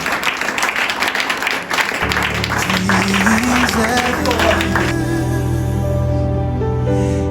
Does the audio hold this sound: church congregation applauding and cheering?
yes